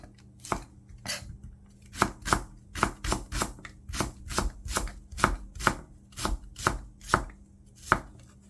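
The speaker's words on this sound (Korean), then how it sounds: "대파 약간만 넣어주고요. 송송송 썰어서 준비해주고" Knife chopping green onion finely on a board for rice cake soup, a steady run of about fifteen crisp, close chops in an even rhythm with no talking.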